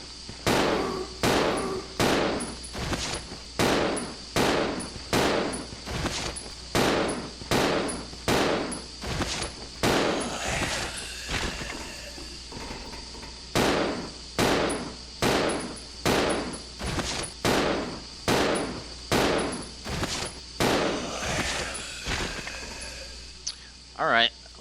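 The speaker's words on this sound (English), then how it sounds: "let's go ahead and test Billy's handgun on a zombie" Billy's handgun firing at a zombie in Resident Evil Zero HD, a long run of loud, evenly spaced game gunshots, roughly one per second, with a brief pause midway and a voice talking over the shots.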